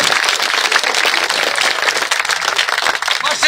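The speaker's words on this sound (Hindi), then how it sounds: "एक बार दोनों हाथों से तालियों से अभिनंदन उठाकर" A seated crowd at a village political rally in Haryana claps loudly and continuously with both hands, a dense, sustained burst of applause.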